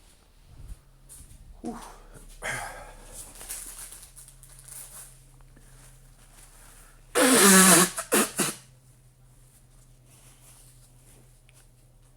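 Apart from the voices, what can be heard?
person blowing their nose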